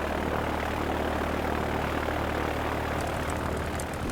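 A cartoon propeller airplane on an electric-powered flight heading toward Barcelona, a steady droning engine hum held evenly throughout, alone with no speech.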